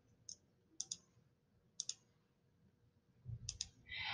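A computer mouse clicks quietly while a monthly planner is built in Word, giving four sparse double clicks spread across a near-silent background, with a soft rustle toward the end.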